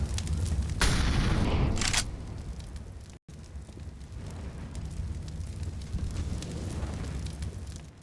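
Incendiary grenade in a Counter-Strike match on Vertigo, a loud roaring burst followed by a steady crackling fire rumble, with gunfire and game noise layered underneath.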